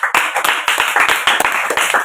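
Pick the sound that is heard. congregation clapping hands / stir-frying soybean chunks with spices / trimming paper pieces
congregation clapping hands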